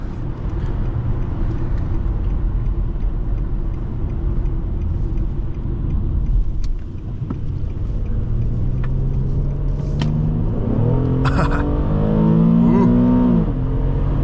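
Low engine rumble of a 2011 Infiniti G37x sedan that builds as it accelerates, with the pitch climbing through a couple of gear changes near the end.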